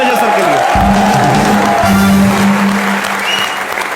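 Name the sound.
audience applause on TV show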